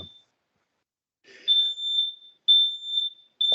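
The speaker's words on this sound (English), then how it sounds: "I think that is our smoke alarm." A household smoke alarm chirping in a home during an online meeting, giving three loud, high-pitched beeps at a steady interval after a short stretch of quiet, with faint voices briefly underneath.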